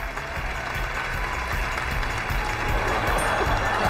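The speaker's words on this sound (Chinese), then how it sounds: "咱们给小叶点掌声" An audience applauding a performer named Xiaoye, dense and steady clapping from a crowd lasting the whole stretch, fairly close with no talk over it.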